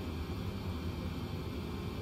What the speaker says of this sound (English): now you guys can hear the APU in the background